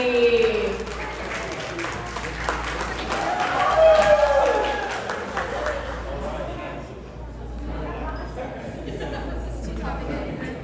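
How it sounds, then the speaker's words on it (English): Wedding guests in Las Vegas clap for the bridesmaid in a moderate, somewhat thin round of applause that swells midway, with talk and a few voices over it before it fades into room murmur. "let's give another big round of applause for our bridesmaid"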